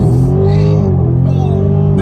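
A Dodge Charger 392 Scat Pack engine revs loudly and close, its deep burbling tone holding steady and then dipping slightly across a short burst.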